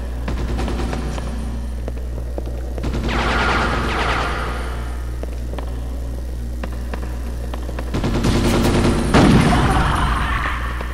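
Bursts of gunfire in the PS2 game Ghost in the Shell rattle over a steady low engine-like hum, with quick rapid shots clustering around the middle and end, moderately loud and no voices.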